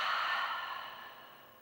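One long, deep breath blown out through the mouth, a soft breathy rush that starts strong and fades away over a second or so, quiet and alone.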